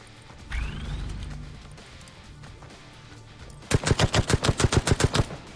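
Rapid burst of automatic gunfire from the mobile shooter game Striker Zone Mobile, a dozen sharp evenly spaced shots near the end after quieter game ambience with a brief whooshing sweep.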